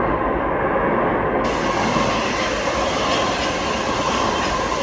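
A deadhead passenger train with no passengers passing Mineola station, a loud, steady roar of wheels and rolling stock close by, with a rising hiss as it sweeps past.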